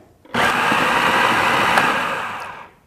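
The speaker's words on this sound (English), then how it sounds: "You want to give the blender a pretty good whirl" A kitchen blender whirs loudly while blending a cauliflower dip, starting abruptly and holding a steady high-pitched motor whine for over two seconds before winding down and stopping, close up with no talking.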